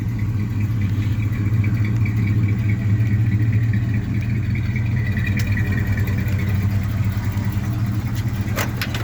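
A 1978 GMC C15 pickup idles with a cold engine, a steady low rumble that stays close and even throughout with no one talking.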